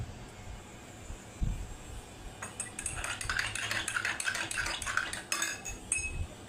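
Two oily spoons stirred in a dish of water, one with Vim bar soap, first quiet and then a run of bright, close metallic clinks and scrapes against the dish.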